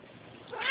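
A domestic cat gives a single brief meow that starts out faint and swells up sharply near the end, with no voices over it.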